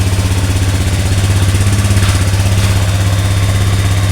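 A fuel-injected 2015 Honda Beat FI scooter idles steadily up close, a loud, even putter with constant rhythm and no other sounds.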